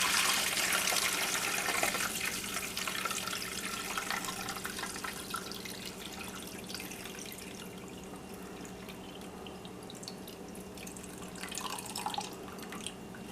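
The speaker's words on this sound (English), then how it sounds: "pour this into a strainer, strain out all the big chunks, mostly giant apple pieces." Apple vinegar made from freeze-dried apple pieces pours through a strainer with a steady, close splashing trickle that is strongest at first and then eases into a lighter stream of drips.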